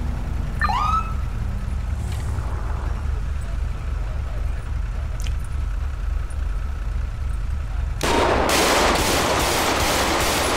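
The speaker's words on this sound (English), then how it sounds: "Shots fired, shots fired." Gunfire in a GTA RP police roleplay shooting, a burst of loud sharp shots crackling in over the last few seconds after a steady hum of game ambience and a distant siren-like tone.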